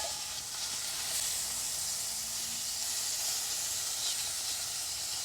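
Steady sizzling hiss of red bhetki fish frying in hot oil in a wok, continuous and close, with no talking.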